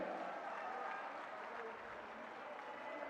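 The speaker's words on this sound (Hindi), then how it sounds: "जब तक पायलट साहब साफा बांध रहे आपकी तालियां रुकनी नहीं चाहिए" Crowd at a political rally in Nasirabad clapping continuously, a dense even wash of applause heard at a distance without pause.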